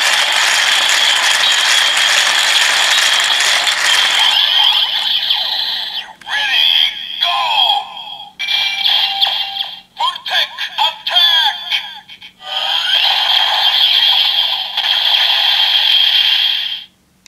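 A Kamen Rider Build toy transformation belt's electronic effect: loud bursts of whirring, ratcheting mechanical noise with synthetic sweeps, stopping and starting in choppy segments before a sustained final blast.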